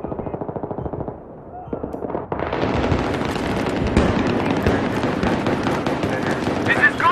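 Rapid automatic gunfire and explosions in a Battlefield 3 multiplayer match, bursting loud and dense after a quieter opening, with a voice talking over the shooting.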